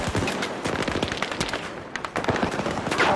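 Sustained close gunfire in Battlefield 2042, rapid automatic bursts and scattered single shots crackling densely over a noisy battlefield background, with no voices.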